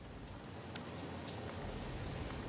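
Steady rain falls in the video game Satisfactory, a soft, even hiss of drops that continues without a break, fairly faint and with no voices over it.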